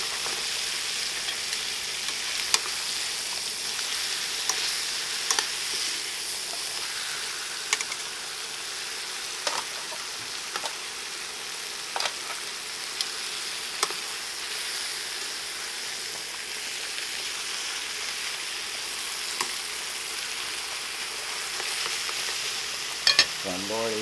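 Onions and mushrooms fry in a pan with a constant sizzle, broken by occasional sharp clicks and scrapes as they are stirred, and a louder clatter near the end.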